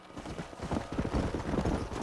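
Horse hooves galloping in Red Dead Redemption, a steady rapid clip-clop of several horses moving as a group, moderately close with faint wind noise.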